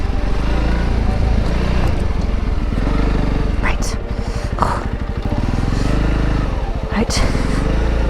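A motorcycle engine drones loudly and steadily as the rider works the throttle through muddy ground in the Pyrenees, running close throughout with brief rider noises over it.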